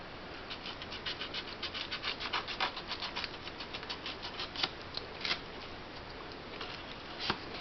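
Knife blade scraping and slicing through the cardboard of a damaged record album cover, a steady run of close, rasping cuts with a few sharper strokes near the end.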